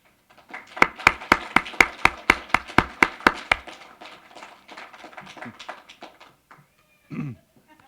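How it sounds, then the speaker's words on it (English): Clapping at a university social work hooding ceremony, sharp, loud claps in a quick, even rhythm that soon thin out into scattered, softer claps before a brief pause. "give them some applause for congratulations"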